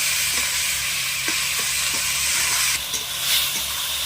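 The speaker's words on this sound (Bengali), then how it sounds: "এবার দেবো টমেটো কুচনো, পরিমাণ মতো লবণ দেবো, হলুদ গুঁড়ো দেবো, মশলাটা ভালোভাবে কষিয়ে নেব।" Spices frying with chopped tomato, salt and turmeric in a pan give a steady, close sizzling hiss with small crackles and pops throughout, with no talking.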